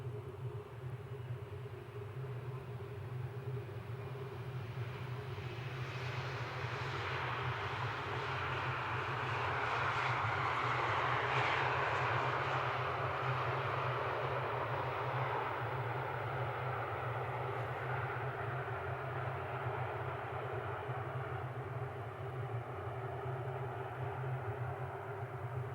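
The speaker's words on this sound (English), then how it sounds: "Beautiful big engines on that E2, isn't it?" Embraer E2 jet at Amsterdam Schiphol at night, its engines a steady distant roar that swells to a peak midway and then eases, with a constant low drone underneath and no talking.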